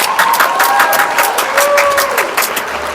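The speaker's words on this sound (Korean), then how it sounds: "여러분 박수 한번 주시기 바랍니다." Audience applause at a Texas hold'em lecture, a short burst of dense clapping from a crowd indoors, steady and fairly loud for a few seconds.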